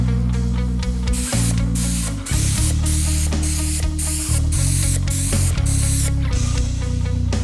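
Paint spray gun laying the first coat on a 1971 Ford Mustang Mach 1 during restoration, a loud continuous hiss broken by short regular pauses as the trigger is released and pulled again.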